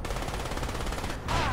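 Rapid automatic gunfire in the Crysis game, a steady close burst of rattling shots that stops abruptly, followed by a brief rising whine.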